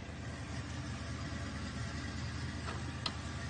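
A 1989 Chevy box car idles steadily after cranking, a low, even engine rumble continuing throughout with a faint click near the end.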